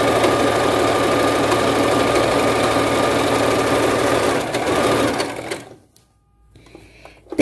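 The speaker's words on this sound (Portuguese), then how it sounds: "E vou costurar ele até o finalzinho" A sewing machine stitches fabric with elastic thread in a steady, loud, close mechanical hum that runs continuously, then stops and leaves near silence before a brief bump at the end.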